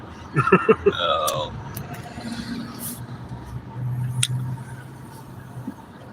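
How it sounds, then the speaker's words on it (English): Car traffic in Washington DC rumbles low and steady, heard from inside a vehicle, while voices talk over it in the first seconds and again briefly later. "Oh, welcome to DC traffic."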